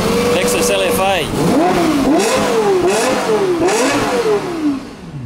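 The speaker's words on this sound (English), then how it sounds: "the mating call of the Lexus LFA" A Lexus LFA's engine revs repeatedly on a Tokyo street, its sharp high-pitched wail climbing and falling in several quick blips over a steady loud drone, close and dominant throughout.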